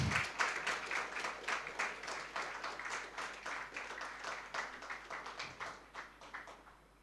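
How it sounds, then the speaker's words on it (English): An audience applauds at a healthcare excellence and leadership awards ceremony. The clapping is rhythmic and fairly quiet, with steady pulsing and no talk over it. "a big round of applause"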